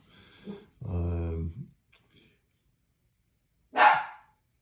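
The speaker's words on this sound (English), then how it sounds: "Sorry about the dogs." Dogs in a home, heard during a tabletop display of baseball cards: a drawn-out whining cry is followed by one sharp, fairly close bark after a quiet pause.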